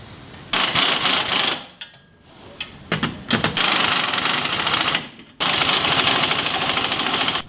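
A power tool rattles in loud bursts while compressing a coil spring with a spring compressor, fast buzzing runs broken by short pauses and clicks.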